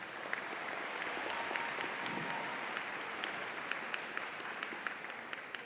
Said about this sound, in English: Let's give our superintendent another round of applause.